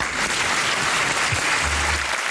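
Employees clap for Silvio Santos at the SBT 30th anniversary celebration, a loud, dense and continuous burst of applause.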